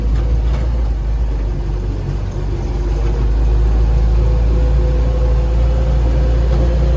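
An M-151 A2 military jeep engine runs steadily at idle, a continuous low rumble with no talking over it.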